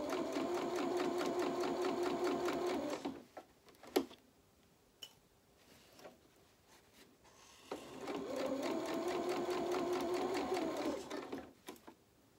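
A home sewing machine runs in two bursts of rapid, even stitching while a doll's dress skirt edge is hemmed, separated by a quiet pause with a few clicks and handling sounds.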